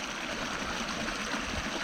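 Water runs off through an apple orchard in a steady, fairly faint trickling stream that flows on unbroken with no pauses.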